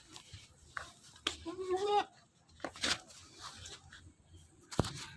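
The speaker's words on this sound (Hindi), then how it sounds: "ये बकरा सेल करना चाह रहा हूँ। कामोरी बकरा है" A young Kamori goat with very long ears gives a short, wavering bleat, close and clear, amid rustling and handling noises, with someone speaking nearby between sounds.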